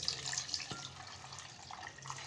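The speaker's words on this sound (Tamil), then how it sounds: "தண்ணி போட்டுக்கலாங்க." Water is poured into a lemon juice mixture, a continuous splashing trickle that runs steadily from start to finish at moderate loudness with no talking.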